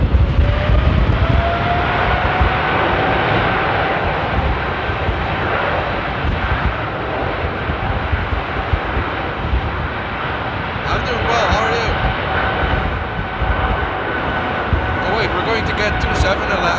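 A Qatar Airways airliner at Amsterdam airport during a storm gives a continuous broad jet rumble with a steady engine whine throughout, with people talking.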